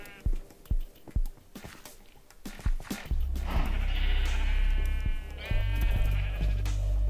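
Several sheep in the video game Minecraft bleat in short repeated calls, followed by louder, drawn-out bleats over a steady low drone, with no talking.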